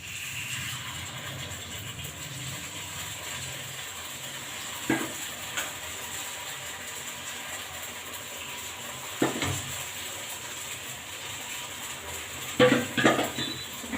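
Coconut ponganalu frying in a pan of oil, a steady soft sizzle running throughout with a few brief clinks of utensils against the pan.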